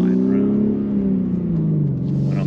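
Engine of a 2021 BMW G80 M3 on track, a loud steady drone whose pitch slowly sinks as the power comes on with a slight turbo lag, heard up close with no talk over it.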